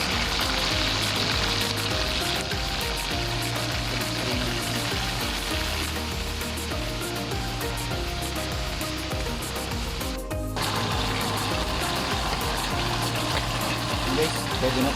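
Tulingan fish half-fries in a pan with loud, continuous oil sizzle and crackle throughout, while a voice talks over it.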